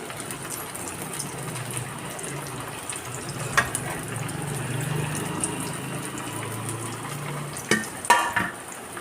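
Thattai rice crackers frying in hot oil, a steady low bubbling sizzle with a few sharp clinks and splashes near the end as pieces are dropped in, no talking.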